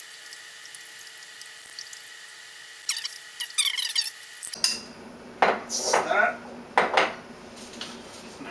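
Stirring 10 grams of GoFerm yeast nutrient into water to rehydrate it while making blood orange mead, giving close clinks and scrapes of a utensil against a container in short bursts, with a brief squeak.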